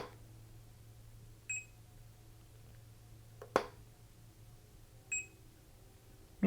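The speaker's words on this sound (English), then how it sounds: "let me go ahead and turn the little beep on for you guys" Two short, high electronic beeps from a Profoto B10 flash signalling it has recycled and is ready, a few seconds apart, separated by flash pops and a faint steady hum in a quiet room.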